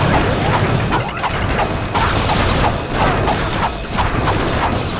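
Wrench melee strikes from Ratchet: Deadlocked land in a rapid series of clanking metallic whacks and crashes, loud and close, layered over busy mechanical game effects.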